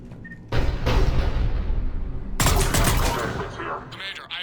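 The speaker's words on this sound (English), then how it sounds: "The cannon fire is clearing the way." Heavy cannon fire in the sci-fi shooter Mass Effect 3: two loud, sustained booming bursts with crackling blasts, close and dominant, the second burst starting midway and fading into lighter rattling.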